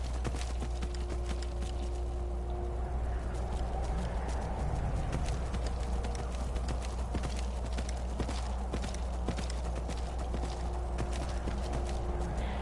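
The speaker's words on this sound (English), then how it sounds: "I'm riding a spectral horse." Rapid hoofbeats of a spectral horse galloping in the video game Skyrim, steady and close, over a low constant rumble.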